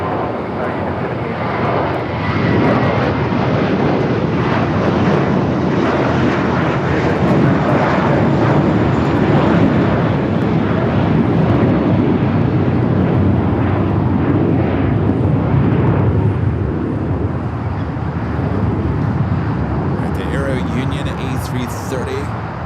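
An airliner takes off from runway 25 Left at Los Angeles International Airport, its jet engines roaring loud and steady for a long stretch under talking voices.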